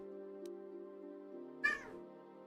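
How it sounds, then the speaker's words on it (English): A single short cat meow rises briefly over a steady music bed from a Star Wars: Knights of the Old Republic game, close and clear, with no talk. "Are you still meowing at me"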